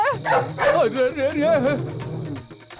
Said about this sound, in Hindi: कुत्ता है बे?